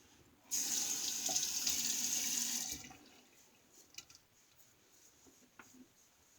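Tap water runs for about two seconds as a Gillette President safety razor clogged with Burma Shave brushless cream is rinsed, followed by quieter drips and small handling taps.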